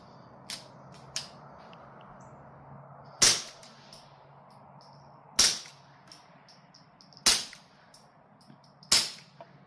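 Suppressed .22 rimfire shots from Mini Mag ammunition through a B&T Tiger 22 can: four sharp, fairly loud cracks spaced roughly two seconds apart, with a couple of faint clicks at the start, then quiet between shots.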